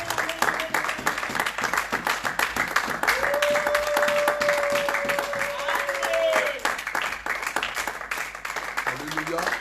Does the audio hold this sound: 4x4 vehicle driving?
no